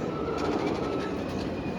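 Jersey Devil roller coaster train at Six Flags Great Adventure during Holiday in the Park, heard as a steady rumbling rail roar with faint metallic squeal, continuous and moderately distant, no talking.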